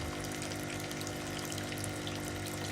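A hand reaches into a water tank in the Kentucky Route Zero game, giving a steady, close wash of running, gurgling water with no pauses and no voices.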